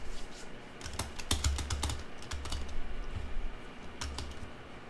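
Computer keyboard keys clatter in quick irregular bursts and single taps during a PC Steam match of Tekken 7, close and fairly loud with no talking.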